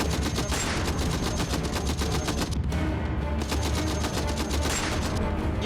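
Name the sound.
gunfire in a war zone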